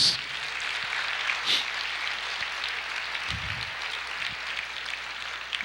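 A church congregation applauds during a sermon, a steady wash of clapping that sits at a moderate level throughout, with a brief low thump partway through.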